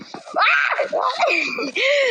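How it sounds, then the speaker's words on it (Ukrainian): Several people yell and scream excitedly in overlapping bursts while reacting to a game, loud and close throughout. "Сорян, що ми так кричимо просто."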